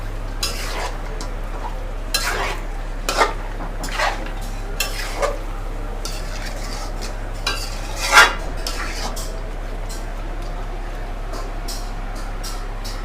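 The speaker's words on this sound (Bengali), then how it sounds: "এটা ভালোভাবে মশলার সাথে মিশিয়ে দেব" Chicken pieces being mixed with spice masala in a bowl, a series of wet squelching stirs and scattered clinks of a utensil against the bowl, close and moderately loud, with a low steady hum underneath and no talk.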